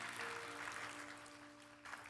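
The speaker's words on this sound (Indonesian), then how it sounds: "Tepuk tangan dong buat Tuhan kita dong." Church congregation clapping during a Sunday worship service at WTC, a dense steady patter of applause filling the room, with a sustained musical tone underneath.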